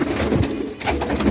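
A pigeon in a pigeon club loft gives a low, close, throaty coo that rolls on continuously across the short stretch.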